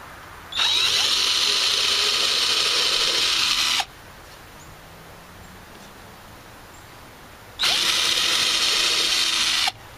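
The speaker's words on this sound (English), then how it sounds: "my Harbor Freight drill here, which is good enough for these sort of things," A Harbor Freight power drill whirs loudly as it bores down through plywood in two bursts of about three seconds each, separated by a quiet pause.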